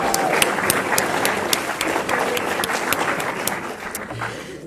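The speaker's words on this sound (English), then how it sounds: "So big round of applause once again." A lecture audience gives a round of applause, with many hands clapping in a busy, slightly uneven texture and a few sharp individual claps standing out before it tapers off.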